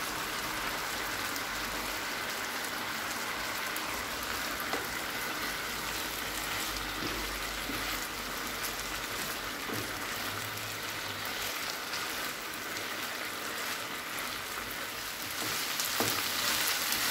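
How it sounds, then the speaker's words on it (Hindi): Chicken fries on a tawa griddle, a soft continuous sizzle and crackle heard close but fairly quiet, steady throughout with a few light stirring scrapes. "चार से 5 मिनट तक चिकन को फ्राई कर लेंगे अच्छे से।"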